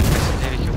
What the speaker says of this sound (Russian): Я по нему стреляю.